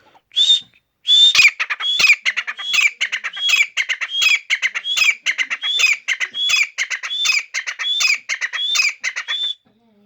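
Sindhi pheasants (teetar) call over and over in a loud, close series of harsh squawking, whistled notes, repeating in a steady rhythm with no talking.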